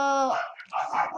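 A dog gives a single short, loud bark close by, pitched and then breaking into a rough, noisy yelp, over just over a second.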